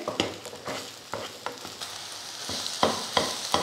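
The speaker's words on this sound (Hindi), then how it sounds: "ऑयल हमारा गर्म हो चुका है, तो अब ये सारे अंडे हम इसमें डाल देंगे" Eggs frying in hot oil in a pan, a steady broadband sizzle broken by repeated sharp scraping clicks of a utensil stirring them, close and moderately loud with no voices.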